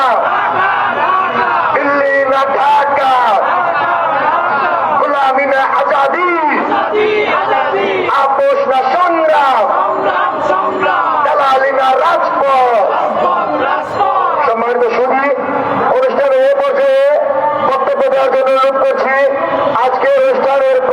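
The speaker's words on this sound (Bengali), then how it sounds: "আমরা আবারও সেই স্লোগান ধরছি, দিল্লি না ঢাকা" A large crowd at a political mass rally in Bangladesh chants the slogan "Delhi na Dhaka" in loud, rhythmic unison. Massed shouting voices rise and fall and keep going without a break.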